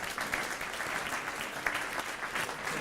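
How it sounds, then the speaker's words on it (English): A meeting audience at the Charlotte Rotary gives Katie a round of applause, steady dense clapping at a moderate distance with no voices over it. "Let's give Katie a big round of applause."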